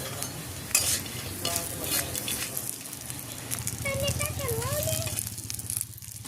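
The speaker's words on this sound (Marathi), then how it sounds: "आता इकडे मसाला भाजायला तवा ठेवला आहे" Masala is dry-roasting on an iron griddle over a wood-fired clay stove, giving a steady close crackling sizzle with stirring and scraping while a person talks.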